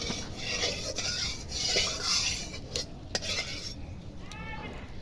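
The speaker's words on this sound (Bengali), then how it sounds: "কড়াইতে দিয়ে দিয়েছি তেল তেলটা একটু মাখিয়ে নেওয়া হচ্ছে কড়াইয়ের মধ্যে" A metal spatula scrapes and spreads oil around an iron kadai, with steady scraping and rubbing strokes close up over a continuous background hiss.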